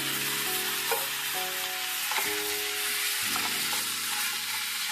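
Marinated chicken frying in ginger garlic paste, a loud continuous sizzle and crackle close up, steady throughout with no talk over it.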